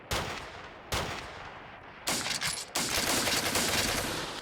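Gunfire in the Steel Panthers World War II strategy game: four loud, heavy shots with decaying tails, spaced irregularly, the last two close together, with no talk.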